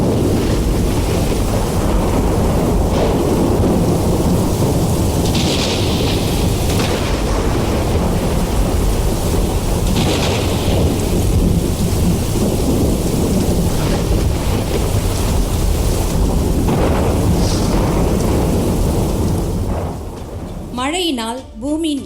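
A skit sound effect of a thunderstorm with heavy rain: steady loud rain and wind noise with rolling thunder swells throughout, ending with a brief burst of other sound.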